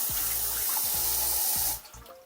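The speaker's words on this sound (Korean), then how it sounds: "물을 틀어줍니다. 하고 살짝 한번 헹궈줍니다." Tap water runs steadily over whole perilla seeds being rinsed in a sieve, a close, continuous splashing stream with low thumps from the seeds shifting, then the flow stops abruptly near the end.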